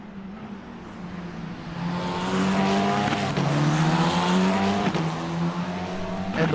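Engine of an F4 race car heard onboard at Laguna Seca in a racing game, a steady rising and falling engine drone with gear-change dips and faint tire squeal, loud and close with no talk.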